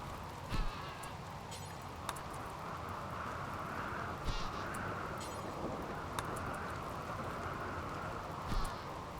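Crows cawing in the colony game RimWorld, drawn to a rice harvest: a few short, faint caws spaced seconds apart over a steady background hiss of wind or rain.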